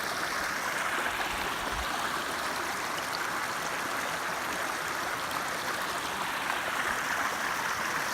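Big Cedar Creek water rushes in a steady, broad wash, continuous and fairly close, with no voices.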